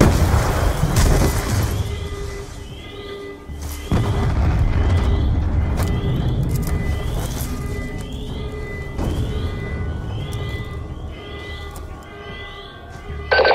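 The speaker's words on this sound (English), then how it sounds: "We're monitoring multiple explosions across the facility." Repeated explosions in the Call of Duty: Black Ops II video game, deep booming blasts rolling across a facility one after another, loud and continuous with rumbling decay, plus a game score underneath.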